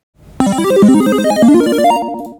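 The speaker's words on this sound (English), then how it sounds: "it actually sounds like the Super Mario sound effect" A short MIDI rendition of a Super Mario sound effect: synthesized electronic notes play as a quick, bright, stepping melody, like a video game jingle, with no voices.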